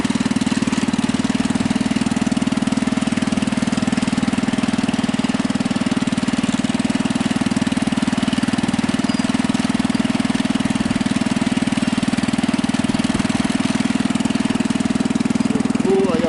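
A Husky 600 engine runs steadily in third gear, a constant mid-pitched drone close by and loud for the whole stretch. It has an even hum and no clear breaks.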